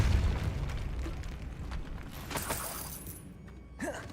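A burst and shattering crash from the Depulso spell in Hogwarts Legacy, a loud rumbling impact that fades, with a brief rising whoosh near the end and faint talk around it.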